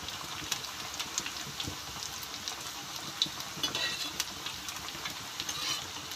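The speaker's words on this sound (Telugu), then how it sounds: "డీప్ ఫ్రై ఇలా కాల్తాయండి" Colocasia leaf parcels deep frying in hot oil, a steady soft sizzle with faint crackles and occasional small pops from stirring, fairly quiet and continuous throughout.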